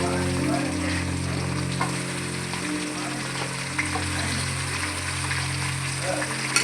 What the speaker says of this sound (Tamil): வெங்காயம் நல்லா வதங்கணும்.